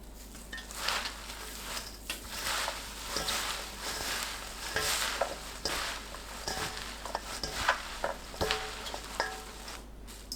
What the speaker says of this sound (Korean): 찜기에 물이 끓으면 상추에 고운 소금 반 큰술 넣고 섞어줍니다.